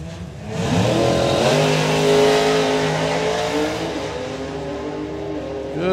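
A doorslammer drag race car makes a full-throttle run, its engine climbing loud and harsh through the gears with rising and falling pitch sweeps, close and steady throughout, with no talk over it.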